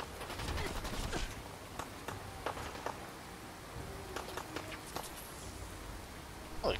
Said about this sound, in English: Holy crap, that guy had a machine gun.